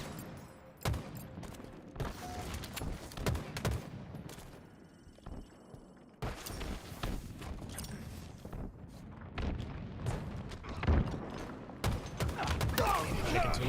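Gunfire in the Halo video game during a competitive scrim, scattered sharp shots and bursts throughout, some near and some farther off, mixed with game mechanism noises and overlapping talk.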